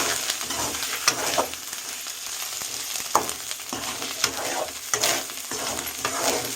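Fish roe coated in turmeric frying in a pan, giving a steady crackling sizzle with sharper pops scattered throughout, close and fairly loud, with no voices.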